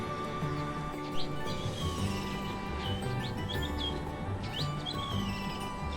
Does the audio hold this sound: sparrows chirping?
yes